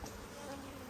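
Honeybees buzzing during a hive inspection for mites, a steady, fairly faint drone of many insects close by, with no talk.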